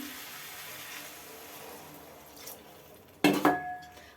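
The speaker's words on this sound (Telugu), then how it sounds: "వాటర్ పోసుకుందాం" Water is poured into a pan of Andhra-style chicken and raw mango curry: a quiet kitchen background, then a sudden metallic clatter and splashing pour late in the clip.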